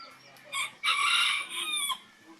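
A rooster of a homer breed crows once, loud and close, in a drawn-out, strained call that rises and holds, with a short lead-in note before it.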